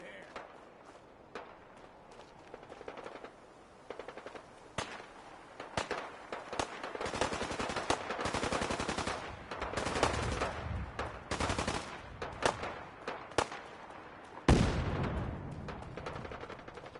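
Gunfire in the video game Fallout 4 sounds as rapid bursts of automatic shots and scattered single cracks, building into dense fusillades at middle loudness, with shouted voices mixed in among the firing.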